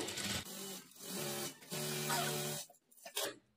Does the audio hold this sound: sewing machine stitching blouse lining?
yes